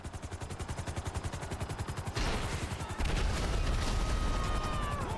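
Merryweather mercenaries trade gunfire in the GTA Online video game, with rapid rhythmic bursts of automatic fire at the start, then a louder, denser stretch of shots and blasts that goes on to the end.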